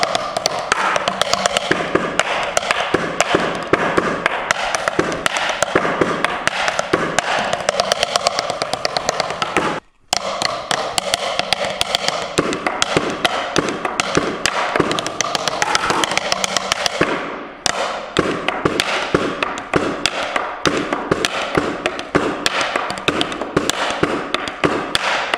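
Rapid, steady sticking on a homemade practice drum set, old and well worn, with dense repeated taps and thuds running close and loud throughout, briefly broken by two short pauses.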